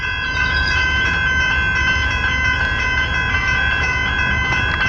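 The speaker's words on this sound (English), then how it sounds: "I wasn't ready for this train to come." A train rumbles past the Murray Road level crossing in Preston, Victoria, loud and close, with steady rail noise and high ringing tones carrying through the whole stretch, with no talking.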